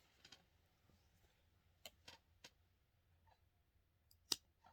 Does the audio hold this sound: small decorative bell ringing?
no